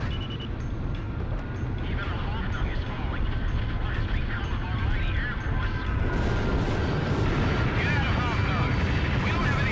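Continuous explosions and rumbling combat noise from the Ace Combat jet fighter video game fill the whole stretch, loud and dense, with bursts swelling near the end.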